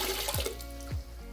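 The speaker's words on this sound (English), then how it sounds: "put it in your bucket, and wring it out" Rinseless car wash: a wash mitt is wrung out over a bucket, giving two brief bursts of water splashing and trickling back in, close up and quiet, with a faint dripping between.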